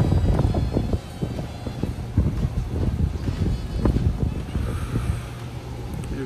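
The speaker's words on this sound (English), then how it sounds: "it's very windy out here" Strong wind gusting outdoors and buffeting the microphone, a constant low rumble with uneven swells throughout, loud and close, no other sound standing out.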